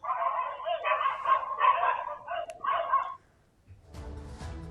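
Street dogs bark in a rapid run of close, loud barks and yips for about three seconds before falling quiet, followed by a short burst of low, muffled noise.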